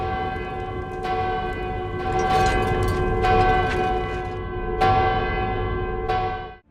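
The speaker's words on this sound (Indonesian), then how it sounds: "lonceng tersebut menandakan gencatan senjata di seluruh wilayah Kansar yang wajib dipatuhi" Large bell tolling in the Indian film Salar to signal a ceasefire, several loud ringing strikes with long, overlapping metallic decay over a dense rumbling background.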